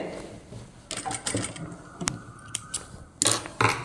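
A sewing machine stitching a child's crop top, running in short uneven bursts with clicking and whirring, close and fairly quiet, with pauses between runs.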